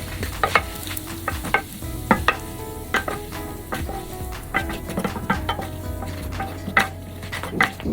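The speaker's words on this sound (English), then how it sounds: "I can get all of this brown bits off the bottom of the pan as well" Metal utensil stirs and scrapes browned bacon bits off the bottom of a skillet while making seafood chowder, a steady run of close scratching strokes over soft sizzling, with no talking.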